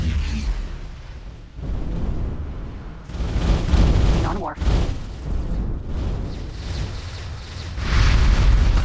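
Defense disc in X4 Foundations firing on the player's ship, with heavy booming impacts and rumbling blasts recurring over several seconds, under spoken commentary.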